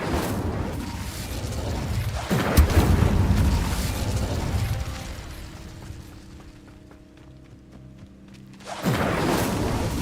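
Incendio fire spell cast in Hogwarts Legacy, a loud burst and rumbling whoosh that fades into a quieter spell of clicking and humming effects before another roaring blast rises at the end.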